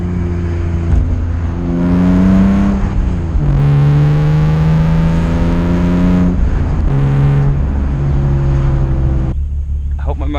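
A BMW E36 M3 engine and exhaust while driving, with a loud close-miked drone that rises and falls in pitch through several revving pulls and gear changes, then drops off sharply near the end.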